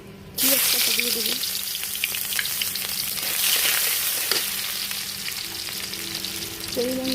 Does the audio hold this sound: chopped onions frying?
yes